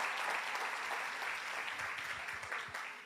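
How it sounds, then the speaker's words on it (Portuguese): Church congregation clapping together, dense steady applause at moderate distance, faint voices mixed in toward the end. "Você pode aplaudir o nome de Jesus bem forte"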